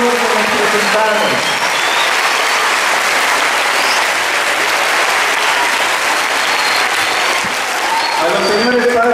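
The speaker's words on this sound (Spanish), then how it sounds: "Vamos a brindarnos ustedes un fuerte aplauso por su participación" Loud, sustained applause from an audience of parents after children's songs at a school event, with a voice speaking over it briefly at the start and again at the end.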